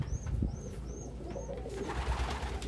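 Pigeons or doves coo in a series of soft, rising calls at close range, with a faint hiss and bustle of the surroundings behind them.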